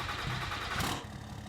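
A 6.7 Cummins diesel pickup engine cranks and fires up in a farming simulator game, a steady mid-range rumble with a brief louder burst as it catches, then settling into idle.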